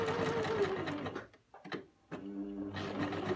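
A sewing machine stitches a skirt seam in loud whirring bursts, stopping briefly in the middle before its steady mechanical hum starts up again close by.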